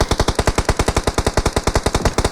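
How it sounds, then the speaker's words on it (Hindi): Automatic gunfire in the BGMI battle royale mobile game, a rapid, even burst of about twenty-five loud close shots in quick rhythm. "फिर से फायरिंग स्टार्ट हो जाती है"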